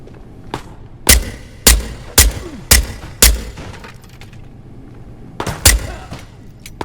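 A pistol fires about seven sharp shots at irregular, fairly quick intervals in the Ghosts of Tabor VR shooter, each crack loud and close with a short echoing tail between.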